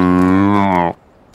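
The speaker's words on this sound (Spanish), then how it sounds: "Estas son vacas." A loud, close cow moo, one long low bellow lasting under a second, followed by quiet background hiss.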